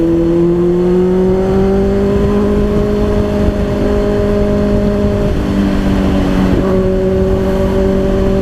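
Kawasaki ZX6R sport bike cruising on the SLEX expressway amid heavy traffic, its engine holding a steady loud tone with wind rush throughout, dipping briefly around mid-ride before pulling up again.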